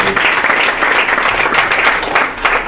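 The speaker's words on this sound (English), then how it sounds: "Ladies and gentlemen, I think that deserves another round of applause." Applause at a stock exchange opening bell ceremony, a dense, sustained round of clapping from a crowd, loud and even throughout with no voices standing out.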